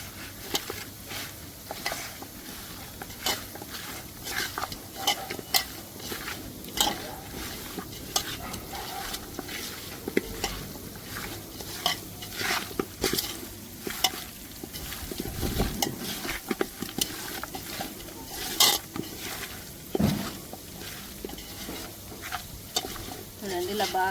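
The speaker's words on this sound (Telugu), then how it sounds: "అంతా బాగా చికెన్కి పట్టేలాగా కలుపుకోవాలి" Chicken pieces are worked by hand with lemon juice, chili powder and ginger-garlic paste, a continuous close, wet squelching and slapping with irregular soft clicks.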